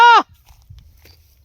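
A single loud, wavering goat bleat at the very start, then quiet rustling and faint footsteps.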